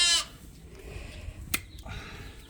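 Sheep on a farm bleat during spring sorting of weaned lambs and breeding groups, with one loud bleat at the start followed by quieter shorter calls amid low background noise.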